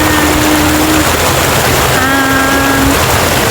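A river flows nearby in a quiet rural spot, a loud, dense wash of moving water that never lets up, with a faint tonal voice-like sound briefly above it.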